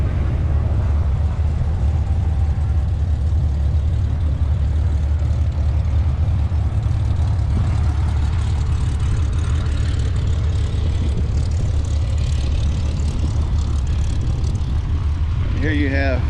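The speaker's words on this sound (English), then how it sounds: "Looks like one of the show planes there taxiing out," Steady low propeller-aircraft engine drone as a show plane taxis out at an airfield, continuous and fairly loud with rumbling wind, and a person talking over it.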